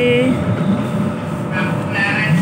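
An LRT light rail train rumbles steadily at Baclaran station, with a continuous close, loud rolling noise and occasional high squeals, while voices talk over it.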